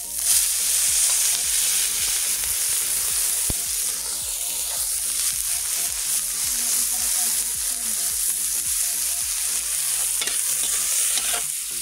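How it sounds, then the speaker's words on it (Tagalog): Shrimp frying for java rice in a home kitchen pan, with a steady, loud sizzle running the whole time and repeated scrapes and clinks of a utensil stirring close by. "Dito na rin po natin niluluto ang ating hipon."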